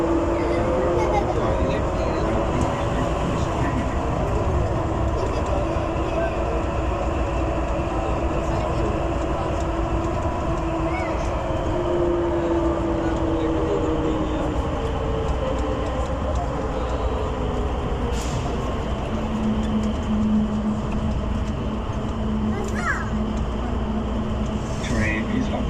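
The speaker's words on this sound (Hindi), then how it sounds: "Train is arriving to the station." A train arriving at a station: a steady rumble and rolling clatter of rail cars with a rising and falling whine of slowing wheels, continuous throughout, with faint voices in the background.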